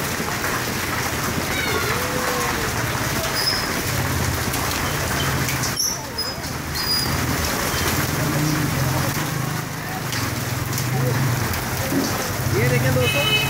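Hailstones falling steadily outdoors in very cold wind, a dense continuous patter like heavy rain on surfaces, with someone talking over it and faint animal-like cries in the background.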